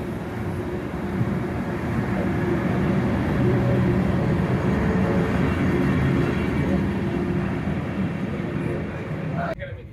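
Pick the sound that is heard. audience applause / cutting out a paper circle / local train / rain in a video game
local train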